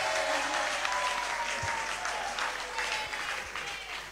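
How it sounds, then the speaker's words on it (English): An audience claps for a performance of traditional content on a children's talent show, steady moderate applause continuing throughout with scattered louder claps. "clap for Abuburo Nkosua."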